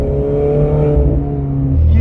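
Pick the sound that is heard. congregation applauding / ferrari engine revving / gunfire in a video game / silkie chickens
ferrari engine revving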